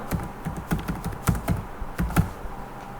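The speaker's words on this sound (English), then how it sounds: "So I will type here." Someone types on a computer keyboard while entering a BASIC-256 program, tapping out short uneven bursts of close, crisp keystrokes with brief pauses between them and no talking.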